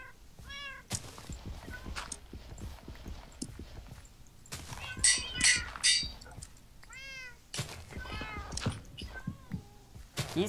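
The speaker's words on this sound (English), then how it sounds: "These cats are quite annoying." Several cats in a Minecraft game meow repeatedly with short, rising and falling calls. The calls come in clusters among busy game sounds, with sharper, louder bursts near the middle.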